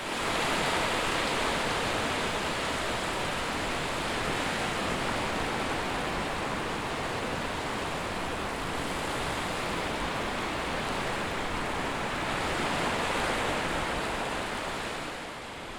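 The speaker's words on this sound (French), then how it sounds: "Face à nous, la mer, magnifique, et une déferlante de vagues et de rouleaux." Sea waves break and roll onto a beach in a continuous loud, broadband surf roar that stays steady throughout, with no talk.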